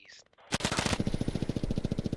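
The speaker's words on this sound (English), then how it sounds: "There's gunshots somewhere." Gunfire in the military shooter game Squad: a rapid automatic burst rattles out at close range, its repeated shots running continuously after a short quiet lead-in, loud and sharp.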